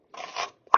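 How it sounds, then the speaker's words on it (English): A knife cuts an onion into slices: a brief scraping slice, then a short pause and a sharp, crisp chop against the board, close and clear with no voices. "Let's cut our onion."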